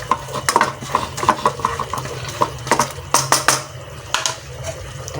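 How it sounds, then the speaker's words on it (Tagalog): Seasoned chicken is stirred in a cooking pot, a spoon repeatedly scraping and clinking against the pot in uneven bursts over a low sizzling hum, close and fairly loud. "Konting halo-halo."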